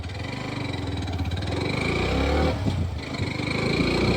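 Hero Glamour X 125 motorcycle engine running steadily in first gear on a street, a close, continuous mid-pitched hum with a slight rise in intensity partway through.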